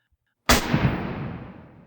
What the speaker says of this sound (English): Gunfire, short bursts of AK-47s rattling off metal and cratering dirt.